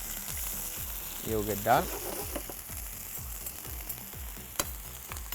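Beef sizzles steadily in a hot pan, a constant frying hiss broken by stirring scrapes and clacks, with a short spoken phrase partway through.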